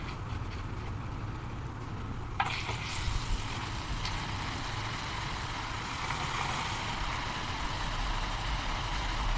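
Popia seaweed skins dropped into hot cooking oil, with a steady broadband sizzle that swells sharply as they go in and then continues evenly without pause.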